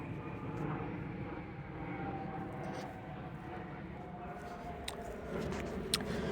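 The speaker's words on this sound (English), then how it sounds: "Another airplane at a time like this?" A distant airplane passes overhead as a faint, steady broadband rumble that holds throughout, with a few small clicks on top.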